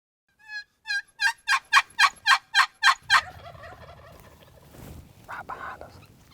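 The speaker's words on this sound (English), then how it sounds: "some birds gobble right in behind us on the sendero that we came in on" A rapid series of about nine loud wild turkey gobbles rings out close by on a sendero, followed by rustling and a fainter gobbling burst farther off.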